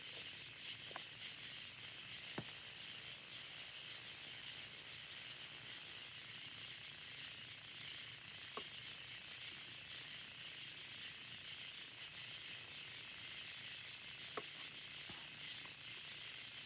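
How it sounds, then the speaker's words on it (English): A dense chorus of crickets chirps continuously at night, a high shimmering trill with a few faint clicks scattered through it. "listen to all the crickets. Put you to sleep."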